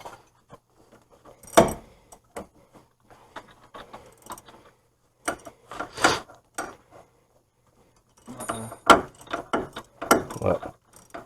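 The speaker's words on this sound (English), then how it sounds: "I'm going to use a regular ratchet." A regular ratchet wrench works on a seized Dodge Caravan hub assembly, giving bursts of fast clicking and metallic clatter up close. Quiet gaps separate the bursts, and a few clanks of tools are handled between them.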